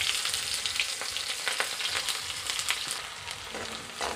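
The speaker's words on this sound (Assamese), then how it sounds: "তাৰপাছত ইয়াত দিম পিঁয়াজখিনি।" Onions sizzle with bay leaf in a hot pan, a close, steady frying hiss with crackles and occasional stirring scrapes, and no talking.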